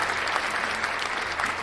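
Steady crowd applause fills the whole stretch, dense and evenly sustained clapping with no voices standing out, heard around a live slot car track event.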